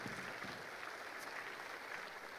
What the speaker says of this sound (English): give a big round of applause to Susan and Laura and Rick for their time up here tonight